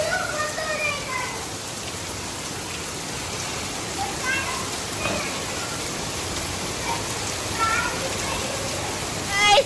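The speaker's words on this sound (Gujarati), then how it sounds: "મસ્ત વરસાદ આવે છે." Heavy rain pouring down outdoors, a dense, continuous hiss of drops striking surfaces, loud and unbroken throughout, with faint scattered sounds in the background.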